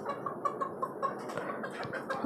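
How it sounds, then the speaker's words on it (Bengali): Desi and tiger chickens cluck in a small caged flock on a five-storey rooftop, with repeated short clucks and calls sounding close and moderately loud against a steady background of farmyard murmur. "দেশি ও টাইগার মুরগির খামার।"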